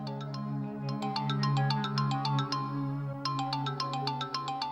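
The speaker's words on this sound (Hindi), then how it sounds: "फोन बज रहा है तुम्हारा।" A phone ringtone plays a steady, looping melodic pattern of bright repeated notes over a sustained low tone, clear and fairly close for about five seconds with no talking over it.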